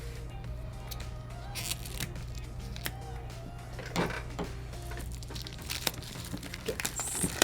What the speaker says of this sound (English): Get this shrink wrap off.